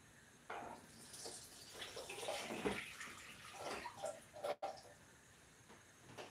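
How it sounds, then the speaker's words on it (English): Water pouring and splashing as it is drained off boiled ackee in a kitchen, close and continuous with gurgling surges and a sharp click near the end. "I'm just going to drain the water off the aki."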